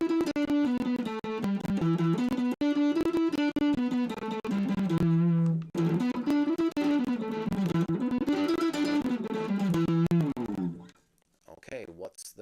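An electric guitar plays a fast blues lead pattern, a dense run of distorted sustained notes, loud and close, breaking briefly twice before fading out near the end.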